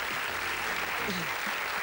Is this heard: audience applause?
yes